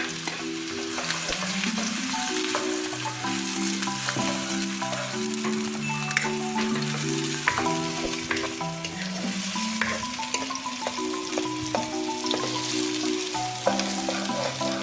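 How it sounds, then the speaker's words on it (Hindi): Onions frying in hot oil in a pan while mutton karahi is being made, a steady sizzle and crackle running throughout beneath prominent melodic background music. "अब हम इसमें प्याज डालेंगे और थोड़ी देर फ्राई करेंगे"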